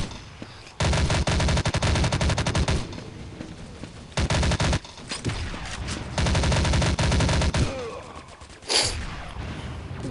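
Rapid automatic gunfire in the FPS game Cops N Robbers, several long bursts of fast shots broken by short pauses, loud and close.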